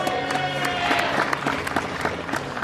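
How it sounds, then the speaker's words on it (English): An audience at a live monster-movie event applauds a guest judge; dense, steady clapping and crowd noise fill the space, with a faint tonal murmur underneath. "Give him a round of applause."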